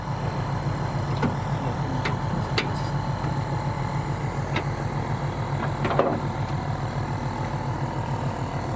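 A Nissan SR20 turbo engine with a T28 turbo and mid-mount intercooler idles steadily in a drift car. It makes a loud, rhythmic low rumble nearby, with faint clicks and taps over it.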